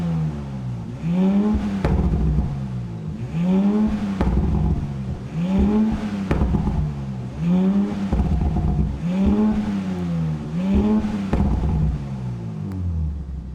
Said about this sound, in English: This engine sounds a lot better versus the 4-cylinder turbo in the A5, so let's go ahead and fire it up so you can hear how it sounds real quick.